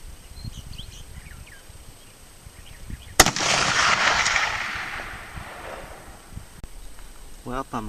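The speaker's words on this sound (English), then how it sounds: "The last 4 shots I took with this rifle" A single sharp rifle shot from a Remington US model 1903 in 30-06 with a peep sight, firing 165 grain spire point bullets, cracks loudly outdoors and rolls into a long fading echo, with faint birdsong and a brief voice at the end.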